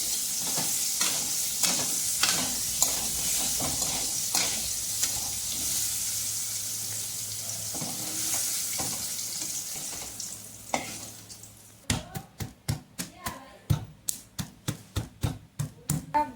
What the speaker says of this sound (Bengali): বেগুনটা আমি ভেজে নিচ্ছি হালকা করে